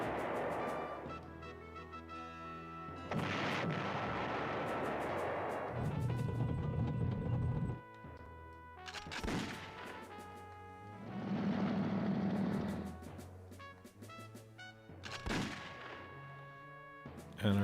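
Artillery fire in the PlayStation 1 game Panzer General lands as repeated booming blasts and crackling bursts over a tonal game soundtrack, with loud roaring stretches between shorter hits.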